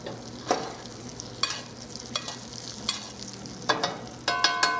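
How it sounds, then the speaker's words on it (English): A steak sizzles steadily in a pan while being flipped and basted, with a constant frying hiss broken by repeated sharp spoon-and-pan clinks and spattering bursts. "let's go ahead and flip and then baste the other side of the steak"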